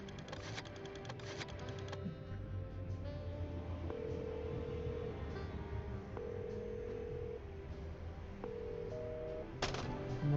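A telephone in the detective video game Chicken Police: Paint it Red gives off steady electronic ringing tones that carry through the full stretch, layered over sustained background game music, with no talking.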